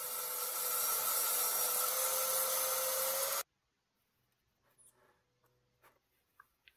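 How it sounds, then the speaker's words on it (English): Recycled 7/8 MDF board being cut to size with a power saw, a steady loud, close, bright whine lasting a few seconds then stopping abruptly, followed by quiet faint clicks and handling noises. "Using some 7/8 recycled MDF that I got for free. Cutting them down to size."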